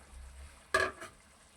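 Boiled bottle gourd tipped into a pot of cooking chicken curry with chickpeas gives one soft, wet plop and a smaller splash just after, over a quiet kitchen background.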